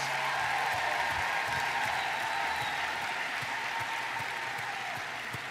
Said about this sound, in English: Let's give a round of applause for all of these outstanding graduates.